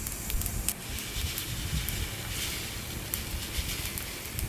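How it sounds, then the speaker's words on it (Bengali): Red mustard seeds sizzle and crackle in a little hot oil during tempering for an arhar dal, a steady close hiss sprinkled with small pops and spits. "অল্প করে লাল সর্ষে আমি ফোড়ন দিলাম।"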